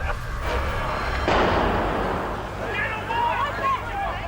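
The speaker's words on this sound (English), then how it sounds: "There's been a second explosion." A second explosion hits an Australian police headquarters as a single sudden, broad blast, followed by rumbling noise and agitated voices in the background.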